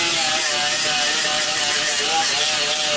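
A Scotch-Brite pad scrubs the deck surface of an engine block, making a continuous harsh, abrasive whirring hiss that stays loud and steady at close range, with no speech.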